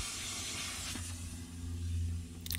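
A steam cleaner works on the heavily soiled carpets and interior of an Audi, giving a continuous loud close hiss with a steady low machine drone underneath and brief hissing bursts near the end.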